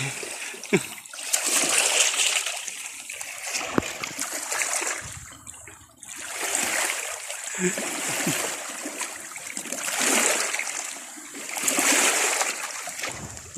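Water splashes in repeated bursts in shallow sea water among rocks, with a voice talking between them and some laughter.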